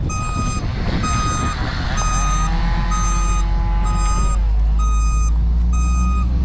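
A dump truck reverses toward an excavator bucket on soft, pumping ground, its backup alarm beeping in a steady repeating pattern over a loud, close diesel engine rumble.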